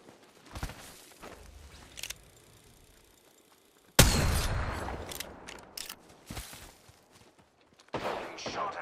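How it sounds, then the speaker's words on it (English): Gunfire in the shooter game Apex Legends comes in short bursts: scattered shots early on, a sudden loud volley at the four-second mark that tails off, then a few more sharp shots toward the end. "Getting shot at."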